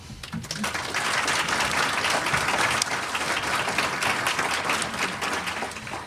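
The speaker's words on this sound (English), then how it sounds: "a round of applause for our panel" An audience at a health care reform seminar applauds the panel, a sustained wash of many hands clapping that fades slightly at the end.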